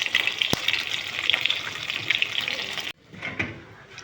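Cumin seeds sizzle in hot hilsa fish oil with a steady, bright crackle for about three seconds, then the hiss drops sharply and carries on more softly.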